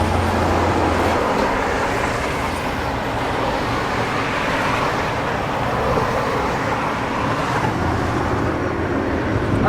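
Steady road traffic heard from inside a moving vehicle on a drive near Pattaya, a loud continuous rumble of tyres and engines with passing vehicles swelling and fading, no talk.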